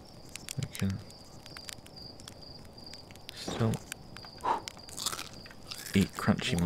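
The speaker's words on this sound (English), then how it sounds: "eat crunchy marshmallows." Crunchy marshmallows being eaten in the video game Outer Wilds, a few short crunching bites over steady cricket chirps, with a person talking throughout.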